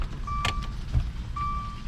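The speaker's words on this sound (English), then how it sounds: "I'm going to go ahead and turn on the ignition" A Dodge Dart's ignition is switched on, giving two short electronic chime tones separated by a soft click, quiet over a low idle-like hum, with no talk.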